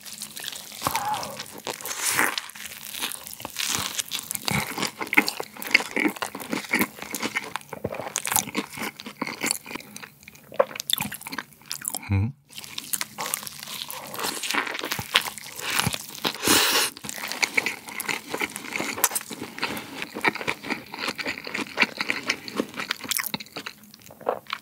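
Close, crisp crunching and chewing of a McDonald's Jindo green onion cream croquette burger, repeated bites and steady mastication with crackly, crinkly textures, with no talking.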